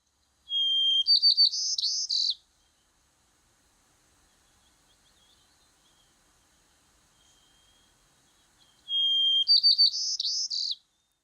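A white-crowned sparrow sings a short, sweet whistled phrase that breaks into jumbled notes and a buzz, then silence, then the same song again.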